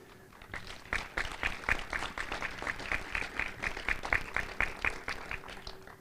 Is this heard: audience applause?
yes